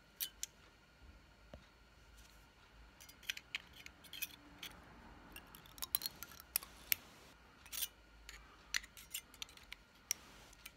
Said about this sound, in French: je vais arracher la bande de nickel